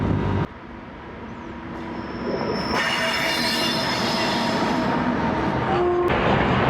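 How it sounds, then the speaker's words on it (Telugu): A goods train rumbles steadily past at close range near Hirakud Dam, wheels grinding and squealing in a continuous loud roar with high metallic screeches. "ఇటు సైడ్ నుంచి ఒక ట్రైన్ గూడ్స్ వెళ్తుంది, అవుట్ సైడ్ నుంచి ఏమో ప్యాసింజర్ ట్రైన్ వెళ్తుంది"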